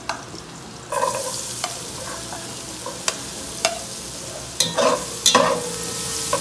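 Chopped onions hitting hot oil and being stir-fried for sisig in an indoor kitchen: a sudden sizzle, then steady frying hiss with intermittent clicks and scrapes of a utensil against the pan.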